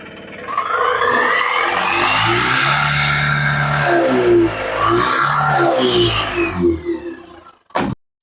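A used load vehicle's engine is revved repeatedly up and down close by, rising and falling pitch sweeps over a loud steady running drone, ending with a sharp knock.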